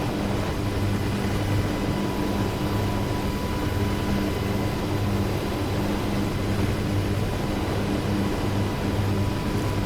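Steady whirring drone of an attack helicopter flying in a combat video game, loud and constant with a low engine hum and rotor buzz that never lets up, alone without talk.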